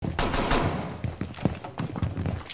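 Video game gunfire crackles in a rapid cluster of sharp shots, loud at first and then trailing into scattered, quieter bursts.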